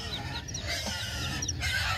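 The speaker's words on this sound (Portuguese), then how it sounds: "A mamãe galinha tá levando eles para dormir, ó." A mother hen clucks softly while leading her chicks toward their roost on a farm, with a few faint chirps above a low outdoor rumble.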